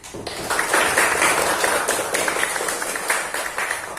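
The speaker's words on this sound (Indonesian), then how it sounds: "Aplaus untuk kalian semuanya" Students in a classroom lesson clap together in a brisk, fairly loud round of applause that continues steadily for about four seconds.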